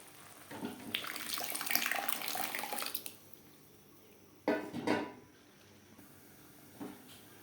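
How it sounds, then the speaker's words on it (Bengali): Water is poured into a pot of cooking moong dal with ginger paste, a gushing splash for a few seconds followed by a second short pour and a faint final trickle, heard close with no talk. "আর দিয়ে দেব পরিমাণ মতো জল"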